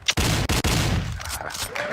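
Gunshot sound effect played over a live stream: a quick burst of several sharp, loud shots separated by brief gaps, then a fading echoing tail, no speech.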